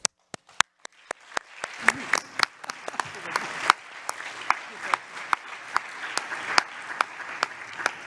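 An audience at a conference closing ceremony breaks into applause, starting with a few scattered claps and building into a sustained round of clapping from many hands.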